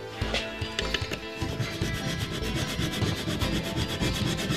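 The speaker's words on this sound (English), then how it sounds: "Just using this diamond file." A diamond file rasps back and forth across a wooden guitar neck in quick, steady strokes, close and fairly quiet, with no talking.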